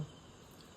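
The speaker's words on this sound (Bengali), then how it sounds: "আওয়াজ আসছে। পুরো ঝিঝি পোকার ডাক," Crickets chirp at night near tea gardens in Kerala, a faint continuous high trill that runs steadily and alone throughout.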